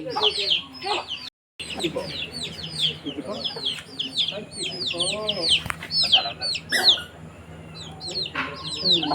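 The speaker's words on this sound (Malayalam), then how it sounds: "ഇവിടെ കോഴി കുഞ്ഞുങ്ങളുണ്ട്" Hens and young chicks in a West Bengal village yard give a busy mix of clucks and high peeping chirps, close and continuous, with occasional voices nearby.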